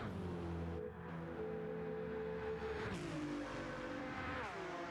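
Race cars in a racing video game thunder over the Flugplatz crest on the Nürburgring Nordschleife during a 24-hour race, a steady loud engine roar with pitch shifts as cars pass and lift, no talk over it.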